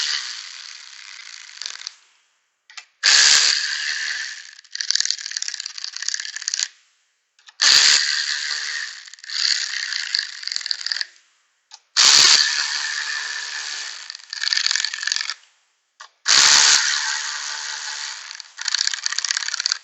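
Bolts on a Honda GX390 engine being snugged with a ratchet or power driver, four separate runs of loud buzzing mechanical clicking, each a few seconds long and separated by brief silences.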